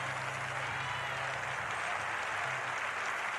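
A church congregation applauds in acclaim, a steady, moderately distant wash of clapping lasting a few seconds without a break.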